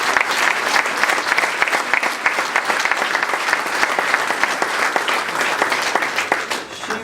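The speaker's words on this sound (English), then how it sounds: "give her a good round of applause" A crowd at a school scholar athlete ceremony gives a loud, sustained round of applause, dense clapping with distinct close hand claps standing out before it tapers slightly at the end.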